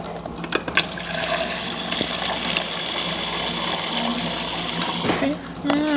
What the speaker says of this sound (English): So let's just add a little bit of water.